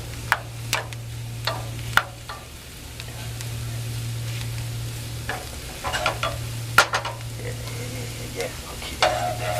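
Mushrooms, onions and shallots sauté gently in a pan over lower heat with a soft sizzle, while a utensil scrapes and clacks against the pan at irregular moments and a low steady hum runs beneath.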